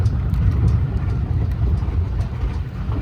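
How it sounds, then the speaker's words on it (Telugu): A train rumbles across an overhead bridge on a jungle safari route in Nallamala forest, a loud, steady low roar and clatter passing close above with no talk. "పైన ట్రైన్ ఉంది ఫ్రెండ్స్, కింద మేము పోతున్నాము."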